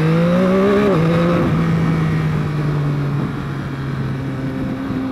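A 2021 Yamaha MT-09 motorcycle engine revs up loudly, then settles into a steady, throaty idle close by, with no talking.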